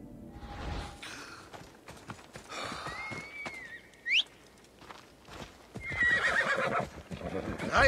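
A horse in Assassin's Creed Odyssey gives a loud shrill whinny and then gallops with rhythmic hoofbeats, set against game sound effects and a rising whoosh, with a voice talking over parts of it.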